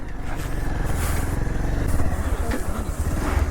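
A 220 motorcycle ridden off-road in first gear, its engine droning low and steady up close with a rough, throbbing note and faint clatter throughout.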